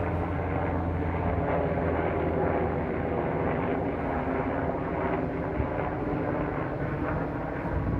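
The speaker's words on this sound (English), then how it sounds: "Looks like a transport type of helicopter." A loud, steady engine drone with low rumbling and a faint rhythmic thrum from a military transport helicopter passing overhead, continuous throughout.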